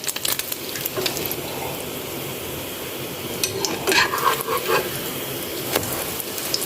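Egg-dipped sweet bread fries in a pan with a steady, close sizzle, broken by a few light clinks and scrapes of utensils.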